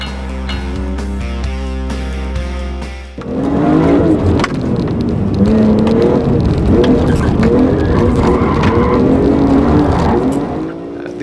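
A BMW M3 CSL with an AC Schnitzer exhaust roars loudly after a brief musical passage, its engine note rising and falling through revs with a raspy, close exhaust growl.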